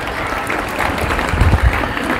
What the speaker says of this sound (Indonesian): Tepuk tangan untuk santri geblek ini.